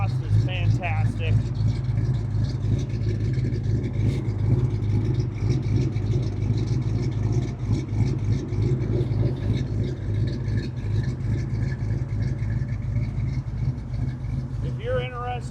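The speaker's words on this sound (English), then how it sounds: "The exhaust is fantastic." A 1971 Pontiac Firebird with a fuel-injected 400 V8 idles steadily, its exhaust giving a low, even rumble close by, with a voice speaking over it for most of the time.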